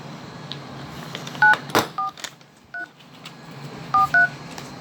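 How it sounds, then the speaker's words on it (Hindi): A phone keypad is dialed for a call, with seven short, distinct electronic tones in uneven clusters, close and clear over faint room noise, and no speech. "मैं अपने फोन से फोन लगाता हूँ।"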